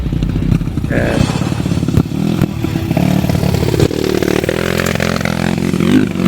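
A motorcycle rides over a rough, bad road toward Gunung Makung in West Sumbawa, its engine droning loud and steady with clattering and scraping from the uneven track.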